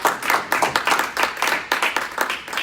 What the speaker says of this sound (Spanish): Un aplauso para Cristo por Isaías, por esta palabra.